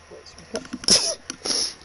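A single sharp sneeze from a person, heard close up, with brief talk just before and after it.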